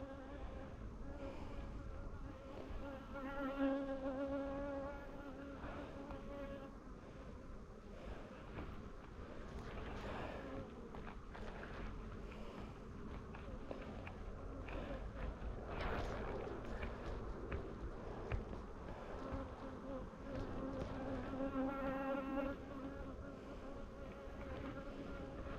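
Honeybees buzz steadily around farm apiary hives, a dense, continuous drone of many insects close to the microphone, with light wind rumble underneath and no talking.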